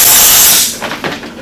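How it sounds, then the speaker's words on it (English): Compressed air from a hose blasts loudly into an air box with the filter still in place, a strong close hiss for under a second, then tapering off into short, softer puffs. "the first thing I like to do is take an air hose"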